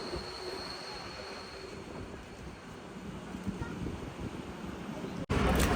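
A steady, rumbling rattle of a moving train on a hairpin-bend mountain line, with wheel and wind noise throughout, ending in a sudden brief dropout and a louder burst.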